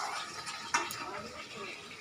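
Fried chicken pieces and potatoes are stirred into a cooked spice masala in a pan, with soft scraping and light clinks under a low, steady frying hiss and a sharper clatter at the end.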